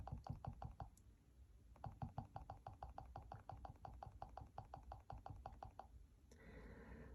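Typing on the keyboard paired with a Dasung Not eReader 103: a steady run of close, crisp key clicks in bursts, with a short pause near the start and a softer rustle at the end.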